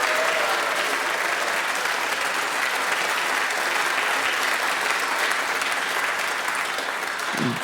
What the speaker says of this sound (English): this especially heartfelt round of applause